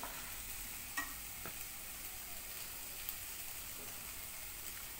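Onion and tomato are roasted over a medium flame in a pan for chole masala, giving a soft, even sizzle with occasional light taps of stirring.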